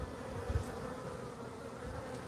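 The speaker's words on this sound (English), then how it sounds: "These are guard bees right here." Guard bees buzzing at a hive entrance in the desert, a steady low droning hum close by and fairly quiet, with no talk.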